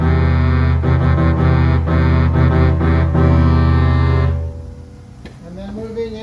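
Bass notes on the saxophone stop of a Style 41 American Fotoplayer: a loud, buzzy low reed chord pulsing steadily for about four seconds, then cutting off into faint room noise and a brief higher tone.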